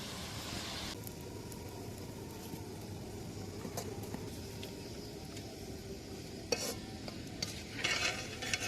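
Chicken leg pieces fry in hot oil for KFC-style fried chicken, giving a steady, dense sizzle and crackle up close that runs throughout, with a few sharp pops and clatters near the end.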